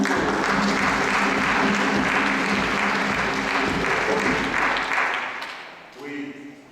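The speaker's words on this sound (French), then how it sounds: "il faut qu'on applaudisse pour tous les enseignants" Children and adults applaud the teachers at a gathering, a loud, full round of clapping with a murmur of voices underneath that thins out and fades near the end, where a voice briefly takes over.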